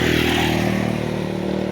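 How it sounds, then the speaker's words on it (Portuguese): A motorcycle roars close by, its loud, steady engine drone and rattling clatter filling the whole moment with no one talking. "A moto passando numa zoada"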